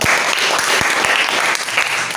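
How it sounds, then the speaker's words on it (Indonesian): A short burst of audience applause follows a teenager's poetry reading at a university teacher-training session, clapping dense and fairly close with a few sharper individual claps standing out. "Berikan tepuk tangan untuk Jonathan."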